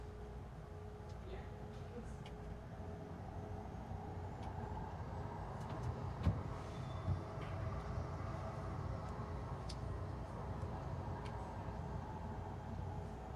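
An O-Train Line 3 light rail train on its new west extension departs and runs, heard from inside as a low steady rumble and hum with faint clicks, quiet and even throughout.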